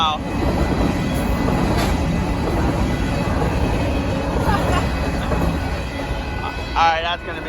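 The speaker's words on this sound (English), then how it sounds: "That grain train is out of here, and has a reroute as well." A northbound BNSF grain freight train passes at a road crossing in south Austin, Texas. It makes a steady, loud rumble and rattle of rail cars throughout, with a few brief squeals near the end.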